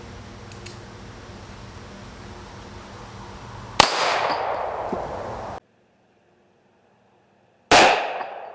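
Two sharp, loud 9mm pistol shots strike a steel blacksmith armor sample at an outdoor range, each a sudden crack with a ringing metallic decay. The shots are a few seconds apart, with quiet between them.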